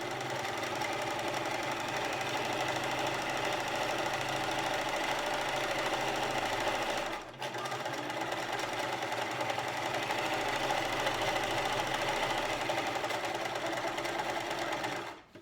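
Sewing machine running a seam in contrasting thread, a close, continuous whirring drone that stops briefly around the middle, then resumes and runs steadily until cutting off at the end, with no speech.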